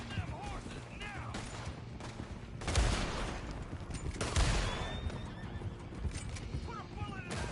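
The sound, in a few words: horses neighing in video game Red Dead Redemption 2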